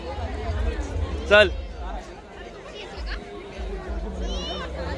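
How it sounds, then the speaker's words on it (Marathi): Busy crowd chatter among the stalls at Devgad beach, a steady murmur of many voices with children calling out and a nearby voice speaking over it. "पण आज गर्दी भरपूर असा"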